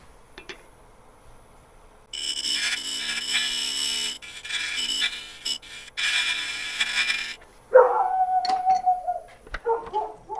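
A dog howls and whines in a woodturning workshop, long drawn-out howls in two sustained stretches, followed by shorter yelps and whimpers close by.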